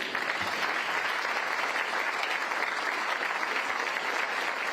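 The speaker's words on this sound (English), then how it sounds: "Do me a favor, keep clapping for Kevin Warren." Sustained, thick applause fills the hall at an event where Chicago Bears and city leaders present a lakefront stadium plan, with a crowd clapping steadily at a constant level.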